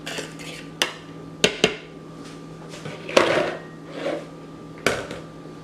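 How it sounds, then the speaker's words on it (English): A fork stirs flour, salt and sugar in a bowl, giving several sharp clinks of metal on the bowl between softer scraping swishes, close and unaccompanied by talk. "Take a fork and give it just a little bit of a stir."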